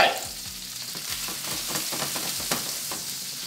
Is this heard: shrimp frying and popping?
yes